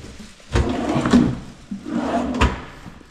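Two wooden kitchen drawers slide and thump shut in a newly built cabinet, each a short knock with a brief rumble, close and clear with no talking.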